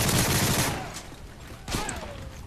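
Rapid burst of automatic gunfire from the multiplayer shooter Modern Warfare 3, loud and dense at the start, then fading into a quieter tail with a second short burst near the end.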